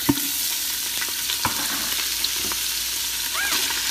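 Sausage sautéing in an Instant Pot on saute mode, a soft sizzle with a few sharp clicks and scrapes of stirring, close and moderately quiet.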